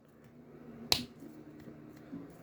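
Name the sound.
plastic action figure parts snapping together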